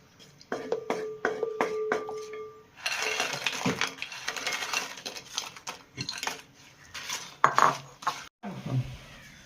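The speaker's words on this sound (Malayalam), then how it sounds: "ഇനി നമുക്ക് അതിലേക്ക് വറുത്ത് വെച്ചിരിക്കുന്ന വാഴക്കായിട്ട് ഇളക്കാം" Fried plantain pieces stirred into sticky jaggery syrup in a metal pan, with repeated scraping, clinks and knocks of a spoon against the pan, fairly close, with no talking.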